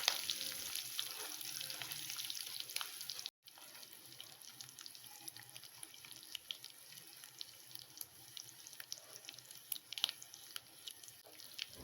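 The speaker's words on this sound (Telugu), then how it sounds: "సో ఇక్కడ పోపు అనేది వేయించేసుకున్నాం కదా" Tempering spices frying in oil for a prawn curry with steamed gram-flour dumplings give a faint, steady crackling sizzle with scattered small pops, quiet and continuous, briefly cut off once.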